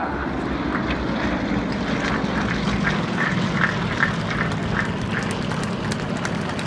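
Steady roar of an aircraft engine overhead at the Farnborough International Air Show, loud and continuous without any talking.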